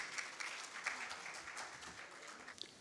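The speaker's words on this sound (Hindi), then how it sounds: "आपकी पुरज़ोर तालियों में" Faint applause from an audience, a steady patter of many hands clapping at a distance.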